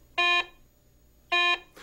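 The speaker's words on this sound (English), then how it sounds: "Iron and nails produce this low-pitch audio signal." Two short, low-pitched electronic tones from a Garrett ACE 250 metal detector signalling iron or nails, each about a quarter second long and a second apart, loud and clear over near silence.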